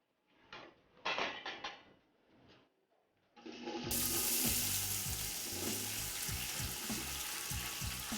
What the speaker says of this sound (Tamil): ஆனியன் நல்லா ப்ரௌன் கலரில் ஃப்ரை ஆகட்டும்